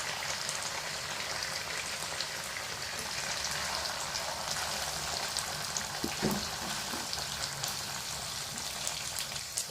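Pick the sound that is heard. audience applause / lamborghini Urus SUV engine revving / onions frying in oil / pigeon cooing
onions frying in oil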